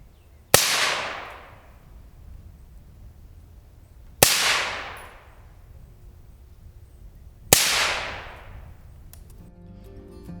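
Three suppressed 5.56 rifle gunshots fired outdoors a few seconds apart, each a sharp loud report with a short booming decay, heard alone at moderate distance.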